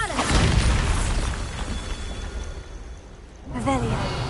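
A Bombarda spell in a Harry Potter video game sets off a loud, close boom with a crackling, shattering tail that fades before another burst of sound, with game voices mixed in.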